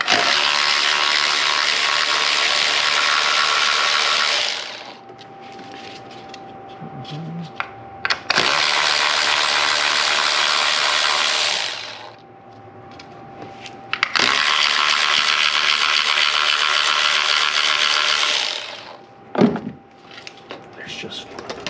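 A hand ratchet works loose the bracket bolts on a 2002 Chevy Corvette during a head gasket job, giving three long bursts of rapid, close clicking separated by pauses with quieter handling noises.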